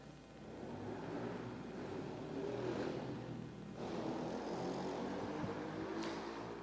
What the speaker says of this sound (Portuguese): Está na moda essas moto barulhenta hoje, né?